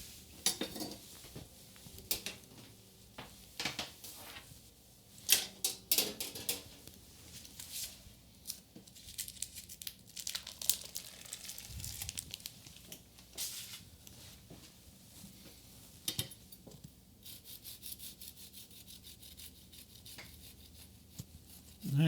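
A knife slicing through a gluten-free tiramisu cake, with scattered scraping and clinking of utensils against a plate at close range, uneven and intermittent, with no talk.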